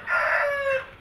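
A Thai rooster on a farm crows once, close and clear, in a single drawn-out cock-a-doodle-doo that rises and then trails off after about a second.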